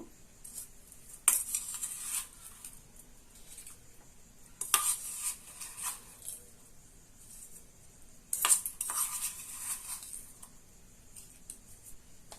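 A spoon stirs patali jaggery into rice noodle payes in a pot, giving soft scraping and clinking strokes in three distinct bursts over a quiet simmering background, with no talking.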